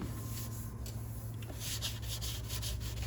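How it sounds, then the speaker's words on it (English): Steady abrasive rubbing of sanding scratches out of a Camaro's body, continuous and close, with a low constant hum underneath. "We're sanding the scratches out."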